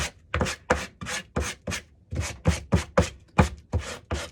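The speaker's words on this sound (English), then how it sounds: "take a sanding block and go over it after I've scraped it" A sanding block rubs back and forth over scraped, painted wood in about fifteen close, dry rasping strokes, each a short scratchy burst separated by brief pauses.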